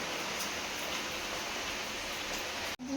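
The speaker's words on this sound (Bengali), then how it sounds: "জোরে বৃষ্টি এলো।" Heavy rain pours steadily outdoors, a dense continuous hiss that holds evenly throughout and cuts off briefly just before the end.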